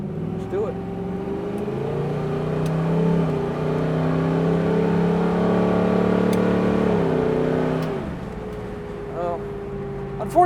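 A 1969 Chevrolet Camaro big block V8 pulls steadily on the road with a deep, rising engine drone that holds, then eases off near the end. Heard from inside the car.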